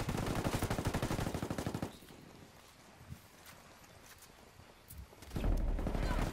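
Rapid bursts of automatic gunfire from a Ghost Recon Ghost War PvP match, loud and dense for about two seconds, then a quieter stretch with a few scattered shots before heavy fire returns near the end.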